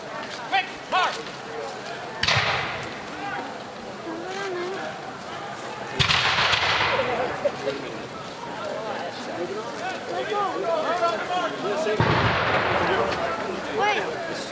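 Musket volleys fired at a Patriots' Day reenactment of Parker's Revenge, three loud rolling blasts several seconds apart outdoors, with shouted commands and crowd talk throughout.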